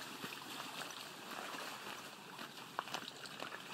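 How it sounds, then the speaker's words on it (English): Lake Geneva's water laps gently along the shore path, a soft, quiet, continuous wash with faint trickling splashes and no voices. "the water is just nice and lulling."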